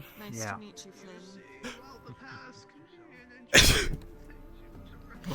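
A single sharp, loud sneeze bursts out midway through a fantasy role-play scene, set between stretches of conversational speech from several people.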